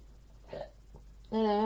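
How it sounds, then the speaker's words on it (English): A single hiccup from a person crafting a snowman wreath, a short voiced catch in the throat, close by and followed at once by speech. "And I get hiccups."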